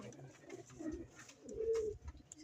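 A trapped pigeon coos in low, repeated throaty bursts close by, with soft rustling between the calls.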